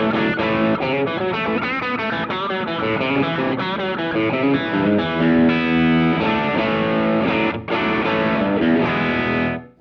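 Electric guitar played through a Walrus Audio Aegis Overdrive pedal, a loud, continuous run of driven chords and notes with a gritty, saturated tone that cuts off abruptly at the end, no talking.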